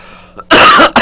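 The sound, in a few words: cough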